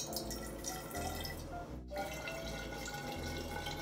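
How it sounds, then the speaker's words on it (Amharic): Water being poured into a measuring cup to fill it while making sparkling water at home, a steady close trickle and splash that runs without a break. "ውሃ እንሞላዋለን።"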